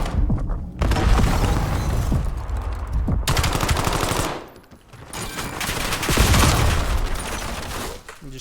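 Gunfire in a competitive video game match, rapid automatic bursts in dense loud volleys with brief gaps between them, heavy and close.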